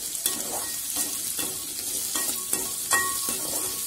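Ginger and garlic fry in hot oil for a Kerala-style fish curry, a dense steady sizzle broken by regular stirring scrapes about every half second, close and fairly loud with no talking.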